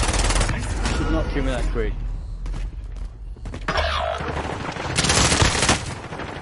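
Rapid shotgun blasts and gunfire from the video game Warzone crackle in a dense, loud burst, with someone talking over the shooting throughout.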